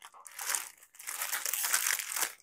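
Plastic packaging around a printed top is pulled open in close, crisp bursts of crinkling and crunching that rise and fall over a couple of seconds.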